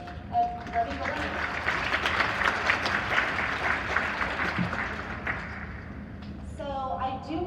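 An audience at a Tuesday morning women-in-STEM learning session claps steadily for several seconds, a dense wash of many hands that tapers off near the end, with voices briefly audible as it fades.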